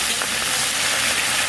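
Chopped onions hitting hot mustard oil with bay leaf, garam masala and cumin, a loud dense continuous sizzle and hiss close by, with no talking.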